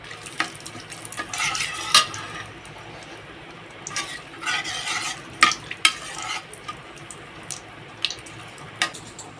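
Bay leaves and dried chillies sizzling in hot oil, a steady crackle with repeated stirring bursts and light utensil scrapes against the pan, close and moderately loud.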